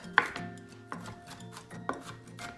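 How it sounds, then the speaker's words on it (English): A knife rough-chops peeled vegetables on a cutting board for a Southern pot roast, three distinct sharp chops spaced under a second apart, close and fairly loud with no talking. "And then just run my knife through it and just to a rough chop."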